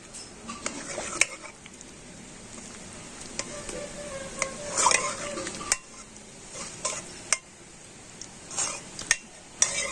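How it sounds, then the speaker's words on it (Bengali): A ladle mashes boiled raw mango in a pot, giving irregular soft squelches and sharp scrapes and clinks of metal against the pot, close up and uneven in rhythm with no speech. "এবার আমি একটা হাতা দিয়ে আমগুলোকে একটু এইভাবে ঘেঁটে দেবো"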